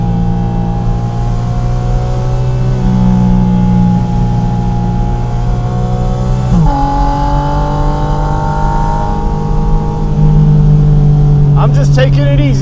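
Porsche Spyder RS engine revving while driving, a loud harmonic engine tone climbing and dropping through gear changes, with a sharp shift near the middle and a rising rev at the end.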